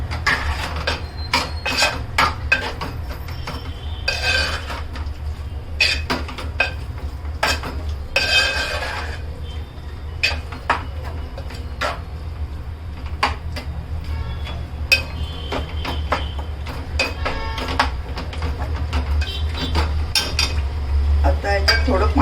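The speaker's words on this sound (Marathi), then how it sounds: "तर हे आपण सगळं मिक्स करून घेऊया।" Bombil kalwan masala ingredients, Koli style, are stirred and mixed with a spoon in a metal pot, giving repeated clinks and scrapes in an irregular rhythm, close and fairly loud, with occasional soft talk.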